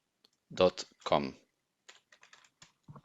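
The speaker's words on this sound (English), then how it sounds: "just open your browser and type ubuntu.com" Typing a web address on a computer keyboard, a short run of light, quick key taps following a brief burst of speech.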